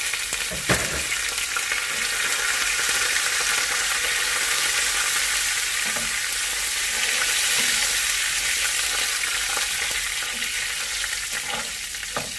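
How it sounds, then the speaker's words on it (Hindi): Continuous hissing sizzle of finely chopped chilies, curry leaves, coriander and garlic frying in hot oil for dal, with occasional stirring scrapes and pops, close and steady. "फ्राई करेंगे थोड़ा सा इसे"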